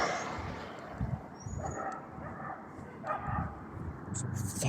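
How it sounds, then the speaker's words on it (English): A dog barks far off outdoors, a few faint, scattered barks rising over a steady background hiss. "the dog's barking over there."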